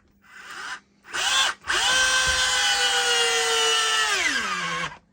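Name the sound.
old battery drill driving into workbench in drill mode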